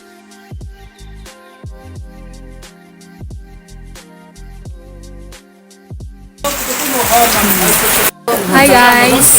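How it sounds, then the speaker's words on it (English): Rain falls steadily in a foggy, cold village in Wokha, beginning as a loud hissing patter after a few seconds of plucked music, with a brief dropout before it resumes. "It started raining."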